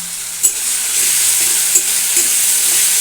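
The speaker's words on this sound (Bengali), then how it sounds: "এটাকে একটু ভালো করে আমি ভেজে নেব যাতে আদা রসুনের কাঁচা গন্ধটা চলে যায়" Ginger garlic paste fries in a pan for a village-style green jackfruit dish, a steady close sizzle with a few soft stirring clicks and scrapes running throughout.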